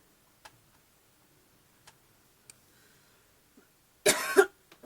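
A single short, harsh cough near the mic, preceded by a few faint ticks and taps in an otherwise quiet room.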